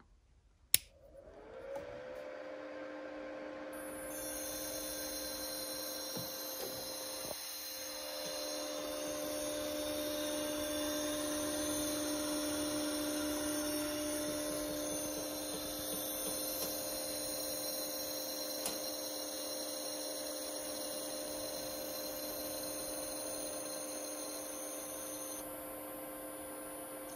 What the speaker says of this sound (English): let's see if you guys can hear this power up noise, the kind of squeaky sounds this amp makes